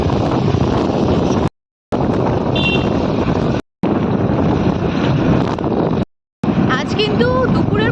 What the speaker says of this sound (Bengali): মারাত্মক পরিমাণে হাওয়া দারুণ বিশাল হাওয়া দিচ্ছে বাইরে